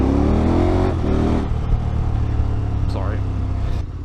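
Motorcycle engine rumbling and revving on the road, close and steady throughout with wind roar, while a voice speaks briefly over it.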